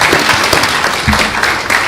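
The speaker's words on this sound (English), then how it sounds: "So let's have one more round of applause for Mr. White, please." Loud, dense applause from an audience at a court ceremony, continuous clapping throughout with a few deeper thumps mixed in.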